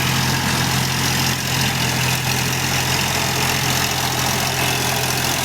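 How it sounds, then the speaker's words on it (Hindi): A tractor pulling a rotavator through a sugarcane field, churning leftover cane leaves into the soil, drones with a steady, loud engine rumble and constant mechanical hum with no breaks. "लेकिन ट्रैक्टर और रोटावेटर बहुत ही ज़बरदस्त काम कर रहे हैं"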